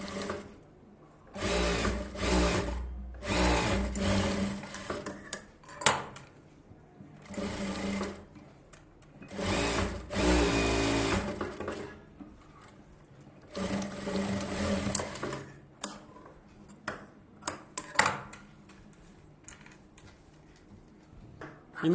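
Sewing machine stitching a collar-neck blouse, running in several bursts of steady whirring with short pauses between, close and alone with no talk.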